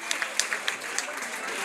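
Scattered applause from an audience at a dance exhibition, a few sharp individual claps standing out over a softer, thinning patter of hands, fairly quiet.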